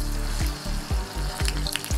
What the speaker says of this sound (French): Donc maintenant on va directement les plonger dans notre bain de friture Amphora Elite.